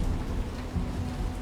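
Heavy rain pours down steadily in a dense, rushing wash with a low rumble beneath, heard as a loud continuous downpour in a Seattle scene from The Last of Us, with no voices.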